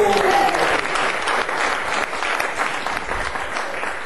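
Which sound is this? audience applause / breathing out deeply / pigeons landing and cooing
audience applause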